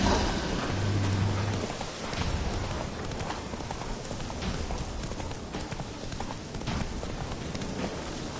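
Hoofbeats of a horse galloping through rain in The Witcher 3, a steady clip-clop rhythm up close over a constant wash of rainfall, with faint rumbles that may be thunder.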